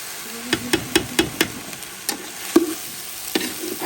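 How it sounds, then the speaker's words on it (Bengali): Rice, lentils and spices for khichuri roasting in a pan, heard as a quick run of sharp spatula taps and scrapes with a faint, steady sizzle underneath and no talking. "আমি একটু রোস্ট করে নিচ্ছি, মানে একটুখানি ভেজে নিচ্ছি।"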